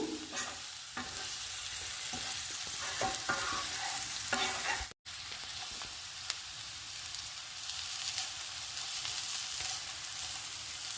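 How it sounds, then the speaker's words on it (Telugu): Eggs stirred and fried in a pan for an onion curry with meal maker, with a steady close sizzle and repeated scraping strokes of the spoon running throughout, broken by one brief cut of silence partway. "ఇలా తిప్పుతూ వేయించుకోవాలి గుడ్లని."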